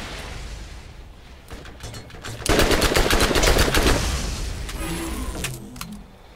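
An automated turret in Borderlands fires a fast rapid-fire burst, loud and close, after a few scattered shots, then fades into lighter mechanical clicks.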